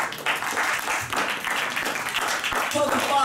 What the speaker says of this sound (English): Come on and give God a hand clap of praise.